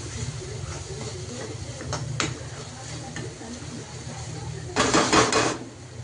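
Garam masala, chilli powder and turmeric sautéing in oil in a pan for a Maharashtrian sev bhaji, a low steady sizzle with light clinks of a spoon against the pan and a brief louder scraping rattle near the end.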